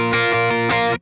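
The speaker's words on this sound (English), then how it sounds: "I'm going to add a little bit of drive into the sound from this Imperial overdrive right here." An electric guitar runs through an Imperial overdrive pedal, a mildly dirty but clear tone pushing into the amp. Short, loud strummed chords sound in a quick rhythmic burst and cut off cleanly after about a second.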